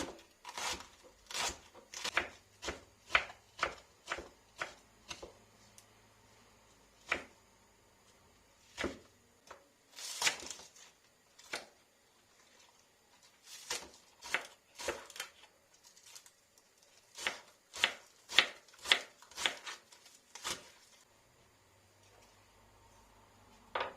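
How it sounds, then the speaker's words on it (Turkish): A knife chops lettuce finely on a cutting board for a kısır salad, sharp close knocks coming in quick rhythmic bursts with short pauses between runs, no talk over them. "Olabildiğince ince doğrayalım."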